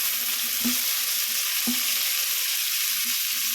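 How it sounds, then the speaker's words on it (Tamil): Tomatoes drop into a hot frying pan for a five-vegetable kuzhambu, giving a steady broadband sizzle with a few soft thuds as pieces land, continuous and close with no talking. "தக்காளி போட்டுக்கலாம். தக்காளி போடுறோம்."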